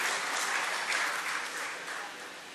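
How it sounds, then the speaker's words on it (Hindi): An audience claps warmly to welcome a speaker at an event in Pune, dense sustained applause from the start that eases slightly toward the end, with no voices over it. "आपसे दरख्वास्त है कि ज़ोरदार तालियों से उनका इस्तकबाल करें"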